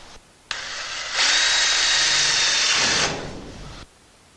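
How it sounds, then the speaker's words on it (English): A power drill bites through a tin metal shed roof, with a short start-up whine that climbs to a loud, steady high-pitched grind for about two seconds, then eases off and stops. "And we are going to drill those 2 holes."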